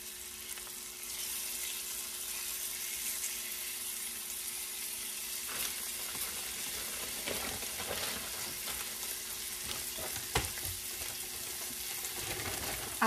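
Chunks of beef for stroganoff fry in a hot pan with a steady, close, hissing sizzle that runs throughout, with faint crackles and no voices.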